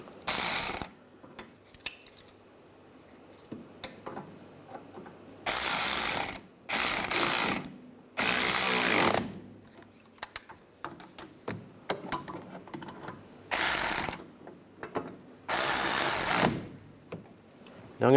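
A ratchet tightens the rear brake bolts on a 1999-2005 Volkswagen Jetta, giving repeated bursts of sharp clicking separated by quiet pauses, close and crisp.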